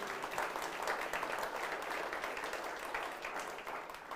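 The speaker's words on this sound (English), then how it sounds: "Big round of applause for all of them" Audience applause for award finalists at an Auckland hi-tech awards event, a dense, even wash of many hands clapping at moderate distance, sustained throughout without talk.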